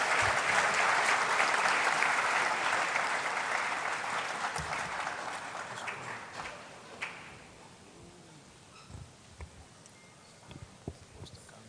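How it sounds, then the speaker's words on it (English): An audience applauds at a Faculty of Pharmacy white coat ceremony as a speaker is welcomed. The clapping is dense and loud for about seven seconds, then thins to scattered claps and taps before fading out. "Ladies and gentlemen, with a round of applause, let's welcome Dr. Emmanuel Kwesi Egan."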